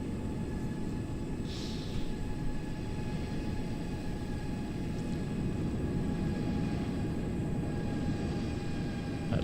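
An airliner touches down on a runway in Microsoft Flight Simulator 2020, a steady loud engine roar and rumble holding throughout with no talk over it.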